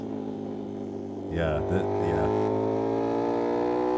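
Motorcycle exhaust revving, a steady loud engine drone that rises in pitch and intensity partway through, with a brief spoken word over it.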